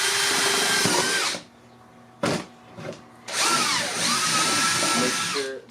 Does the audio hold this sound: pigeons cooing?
no